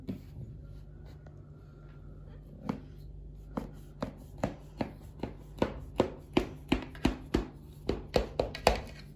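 An ordinary kitchen knife cuts along the edges of a tray of hand-rolled layered baklava pastry. Soft, close taps start sparse, then quicken into a steady run of crisp knocks against the tray.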